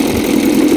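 A low, steady idle from an old outboard motor putters continuously at close range, with no other sounds.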